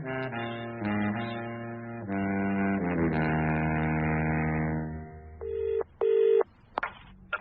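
A telephone rings in a BBC radio drama of a murder trial story, a series of electronic tones and buzzes closing a stretch of music, with short repeated ring bursts near the end.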